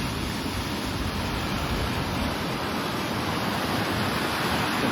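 Floodwater of the Tapi river in Surat rushes bank to bank after upstream release during rain, a loud, steady, dense roar of churning water close by with no break and no voices.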